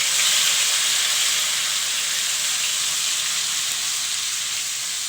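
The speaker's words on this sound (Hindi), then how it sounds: "और इसको अच्छा सा फ्राई करेंगे।" Ginger and garlic frying in a pan, a loud, even, continuous hissing sizzle with no break, close and alone.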